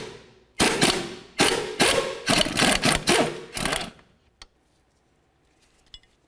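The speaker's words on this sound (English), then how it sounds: "I'll use a 19mm wrench and a 19mm socket to remove the pair." A 19mm wrench and socket work the strut-to-knuckle bolts on a 2004-2006 Scion xB: several loud, close bursts of metallic ratcheting, then a lone click and quiet.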